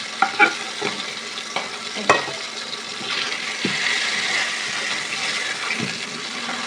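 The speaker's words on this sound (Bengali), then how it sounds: "এটা ফ্রিজের মাছ ছিল তাই একটু বেশি করে ভাজলাম।" Previously frozen rohu fish fries in oil in a wok, a steady sizzle broken by several sharp stirring and scraping knocks near the start.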